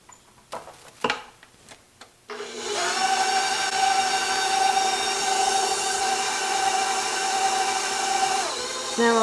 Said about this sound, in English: Now I'll turn my mixer off.